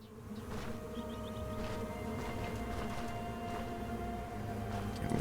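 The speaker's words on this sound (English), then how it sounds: "Can we see it without pissing off a bunch of bees?" Bees buzz around a nest in the video game Stoneshard, a steady, faint, continuous hum that lasts throughout without speech.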